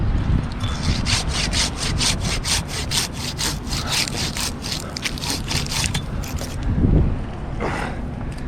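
A hand saw cutting off branches high in a tall spruce during a solo tree removal, a fast rhythmic rasp of about fifteen close strokes over six seconds, ending with a branch cracking.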